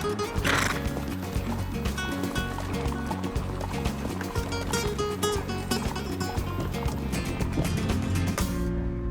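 Horses in the Whanganui countryside, New Zealand, a whinny near the start over steady clip-clopping hooves and rustling movement, fairly close and continuous.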